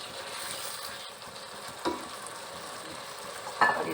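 Bitter gourd and mince fry in a pan with a soft, steady sizzle and a couple of faint utensil clinks near the end, quiet and with no talk.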